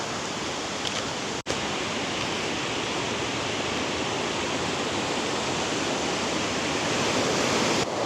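A waterfall in a Canadian rainforest roars as a dense, steady broadband rush of falling water, loud and unbroken throughout, with a brief click near the start.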